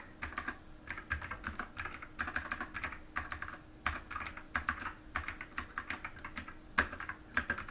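Rapid, uneven clatter of keys on a computer keyboard while code is written, close and fairly quiet, with steady bursts of keystrokes and brief pauses throughout and no voices.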